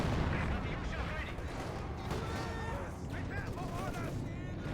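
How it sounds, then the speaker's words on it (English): Rockets fire and explode continuously in a dense, booming wartime battle from Company of Heroes 2, with artillery-like rumble and crackling blasts under a voice talking. "More rocket fire here."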